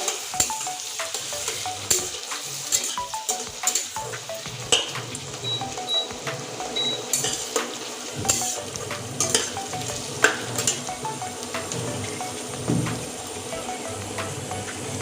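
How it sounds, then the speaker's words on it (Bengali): Onions are added to a pan of whole spices already fried deep red for a Bengali-style chicken curry. A close, continuous sizzle comes with scraping and the clink of a stirring spoon against the pan. No one speaks. "এবার পেঁয়াজটা দিয়ে দিচ্ছি এবার নেড়ে নেব একটু"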